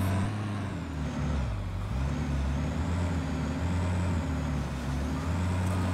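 Vehicle driving in the video game Satisfactory, a steady low engine drone with a deep harmonic hum that dips briefly in pitch and then holds, continuous and loud throughout.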